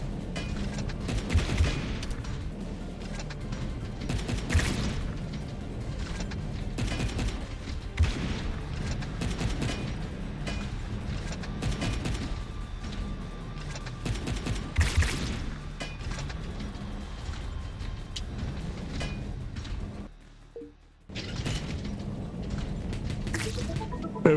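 Missiles fire in the Wall World video game, a dense run of repeated blasts and bursts in quick succession, loud and close throughout, with a brief drop near the end before the barrage resumes.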